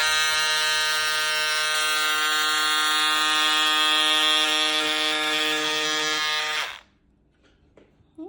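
An electric fabric cutting tool slices through a denim flounce pattern and paper with a loud, steady buzzing whine that holds for about seven seconds, then cuts off abruptly into near silence.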